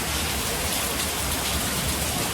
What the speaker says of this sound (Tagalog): Tapos ngayon, ang lakas ng ulan.